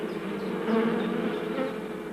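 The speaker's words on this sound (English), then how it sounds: "senior worker bees who've graduated from nursing to jobs in the wide world" Honey bee foragers, senior worker bees collecting pollen, buzz at the hive entrance in a dense, steady hum of many wings, close and continuous with no other sounds.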